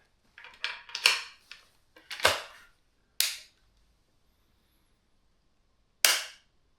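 A FAMARS Excalibur 20 gauge side-plate shotgun with detachable trigger is dry-fired on snap caps. A few quick mechanical clicks and handling rattles come first, followed by three sharp, crisp snaps of the hammers falling, spaced apart with silence between them.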